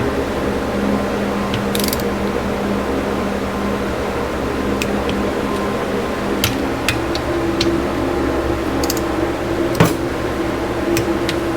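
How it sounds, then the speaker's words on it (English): A torque wrench tightens bolts on a 1968 Honda CB350 engine being rebuilt, producing scattered sharp metallic clicks and ratcheting ticks over a steady mechanical hum. "So I'm going to go ahead and torque this down."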